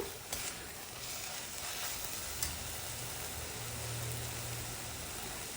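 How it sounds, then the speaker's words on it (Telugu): Fenugreek leaves fry in a pan with a steady, faint sizzle and a few light stirring knocks, heard close with no voices. "మెంతికూర పచ్చి వాసన పోయే వరకు వేయించాలి"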